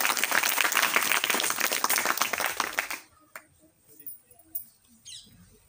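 A crowd at a school event in Nalanda claps loudly for an honoured guest for about three seconds, then the applause stops abruptly, leaving a quiet room with a few faint sounds.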